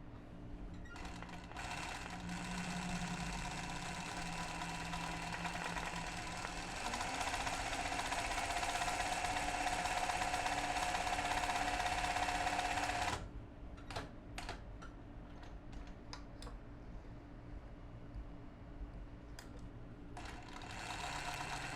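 Domestic sewing machine doing free motion embroidery stitching on up-cycled clothing, a continuous fast whirring stitch run that stops abruptly, followed by scattered short mechanical clicks and brief bursts, close but fairly quiet.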